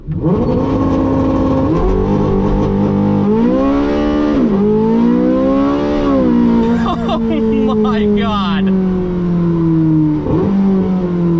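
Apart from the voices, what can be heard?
Porsche 918 Spyder accelerating 0 to 60 mph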